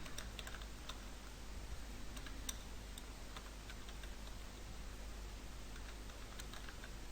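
Faint, rapid clicking of keys on a computer keyboard as text is typed, light irregular taps over a steady low background hum, with no talking.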